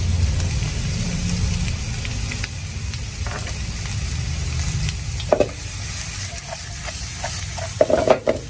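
Chopped onion and garlic hiss and sizzle steadily in hot oil in a pan, a close, even crackle with a few stirring clicks and light clinks of a utensil near the end.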